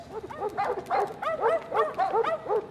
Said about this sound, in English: You can't bring your dogs on the underground.